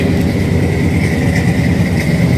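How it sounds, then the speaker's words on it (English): A deep, steady V8 idle from a 1969 Chevrolet Chevelle SS tribute's 396 engine rumbles continuously, heard from behind the car, with a smooth low burble and no talking. "Slip around behind the back of it so you hear this 396 purr"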